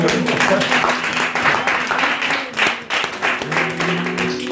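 A church congregation applauding during a service: dense, sustained clapping from many hands fills the whole stretch, rising and dipping slightly, with faint tonal music or voices held underneath.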